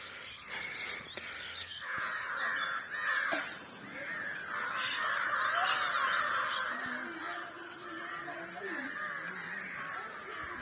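A flock of birds calls outdoors, overlapping caws and honking cries forming a dense, continuous chorus at moderate distance, with faint background noise and no clear talk.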